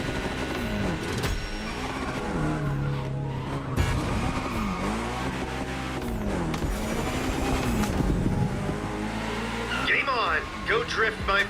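A Lancer Evo X drifts in The Crew Motorfest racing game, its engine revving and falling in repeated swells while tires squeal loudly through long slides, close and continuous.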